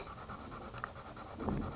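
A felt-tip marker colors on paper, pressed lightly, making faint soft scratchy strokes close by in a quiet room.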